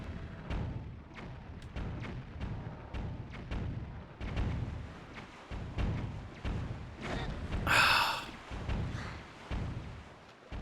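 Cannon boats firing in the video game Zelda: Wind Waker, a string of repeated thudding booms at an uneven pace under game sounds, with one bright hissing burst near the end.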